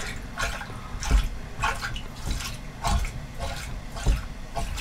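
Waste water drains from a motorhome's waste tank, a steady wet gurgling and splashing with recurring louder surges, close by and with no talking.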